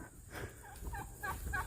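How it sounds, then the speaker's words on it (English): Chickens clucking and murmuring close by in the evening near feeding time, soft low calls in a short quiet stretch. "Look at these chickens."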